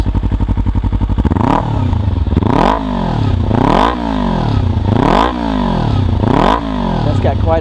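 A Kawasaki Ninja 300 with a Yoshimura R-77 full exhaust idles briefly, then revs hard five times in quick succession, each loud, close rise climbing steeply before snapping back down.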